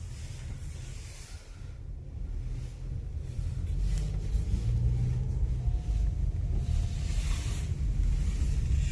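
A 2025 Volkswagen Jetta SE shifted into drive and pulling away, a low steady engine and road rumble that swells slightly as the car gets moving, with some wind noise over it.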